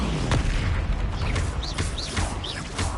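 Spell blasts from Hogwarts Legacy on PS5 boom repeatedly in quick succession, dense and loud with sweeping magical whooshes and chirps over a rumbling low end, no talking.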